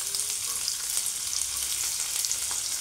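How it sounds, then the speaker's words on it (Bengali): Chopped onion fries with already browned garlic and cumin in white oil, giving an even, moderately loud sizzle with faint crackles throughout and no voices. "রসুনটা ভাজা ভাজা হলে পেঁয়াজ দিলাম,"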